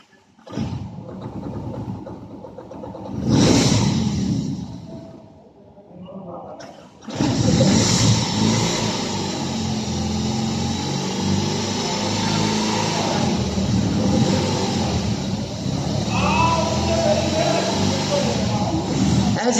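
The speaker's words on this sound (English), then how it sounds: "2022 year model, R18 first edition motorcycle" A 2022 BMW R18 First Edition motorcycle with 2,633 km on the clock starts and runs, a deep rumbling idle with a couple of revs, loud and close, with people talking nearby at an outdoor auction.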